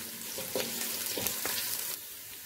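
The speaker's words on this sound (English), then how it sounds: "I give it a stir." Fried rice with onions, chicken and spring onions sizzles in oil in a pan, a close steady crackle punctuated by a few quick scraping stirs.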